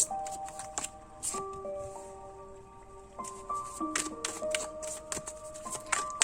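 Tarot cards are handled and laid out during a pick-a-card reading, with crisp slaps, flicks and shuffles in an uneven rhythm under soft music.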